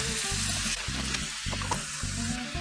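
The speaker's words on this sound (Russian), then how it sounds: "Пусть немножко обжарится." Mussels with peas and onion fry in a hot skillet, a bright continuous sizzle broken by regular stirring scrapes, close and fairly loud, with no talking.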